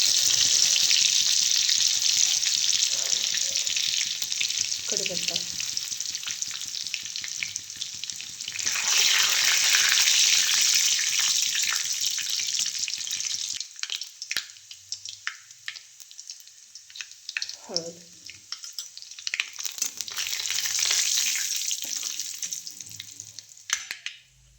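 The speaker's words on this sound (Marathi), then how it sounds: "फोडणी चांगली देऊन झाली" Mustard seeds, cumin and garlic crackle and sizzle loudly in hot oil, a steady hiss that swells and fades, with occasional scraping of a spoon stirring the pan.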